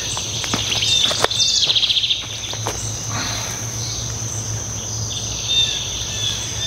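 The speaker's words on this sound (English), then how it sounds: "The birds are really singing nice this morning out here." Birds singing on a morning in a tomato garden, with scattered chirps and short calls over a steady background hum of crickets and insects, moderately close, no talking.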